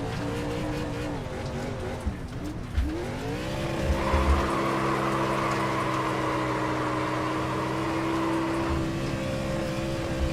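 A race car in the iRacing sim game skids and slides, its engine droning steadily while tire squeal rises into a sustained screech, moderately loud and continuous for about ten seconds.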